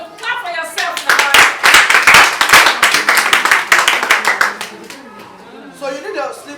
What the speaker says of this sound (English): So clap for yourself now.